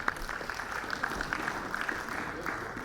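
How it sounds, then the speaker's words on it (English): Audience applause at a public sector governance forum, a steady, moderately distant patter of many hands clapping throughout with no clear peaks. "A large round of applause for everyone, please."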